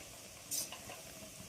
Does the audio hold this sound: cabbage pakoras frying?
yes